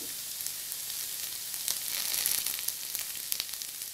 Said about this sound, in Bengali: এটা একটু হালকা ফ্রাই করে নেব